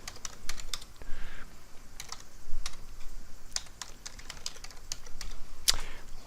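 Fingers typing a comment on a computer keyboard while filling in an approval form, a steady run of light, quick key clicks at close range with no voices.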